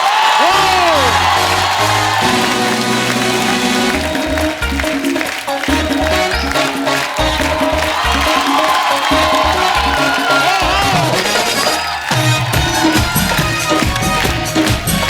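Studio audience of a Hindi comedy talk show applauding and cheering as Deepika Padukone comes on stage, a loud sustained crowd roar with whoops and shouts, music underneath throughout.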